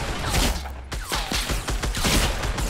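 Fortnite gunfire in rapid, close bursts of sharp shots, some quick strings of repeated fire, loud and nearly continuous with little talk.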